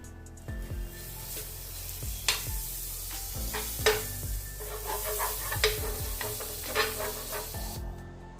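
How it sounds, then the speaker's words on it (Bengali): Gola ruti batter of grated carrot, flour and salt sizzles in butter in a pan, a continuous close crackling hiss broken by scraping stirs and spatula taps, with no talk. "তার জন্য আমি তেলে ওটাকে ভাজছি না, একটু বাটার দিয়ে ভাজার চেষ্টা করছি"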